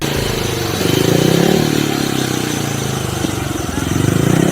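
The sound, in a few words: speedway motorcycle engine warming up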